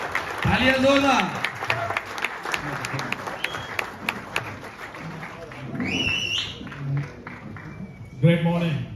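A crowd applauds at an indoor training event, with clapping filling the first half and thinning out, while voices and short musical tones break in later.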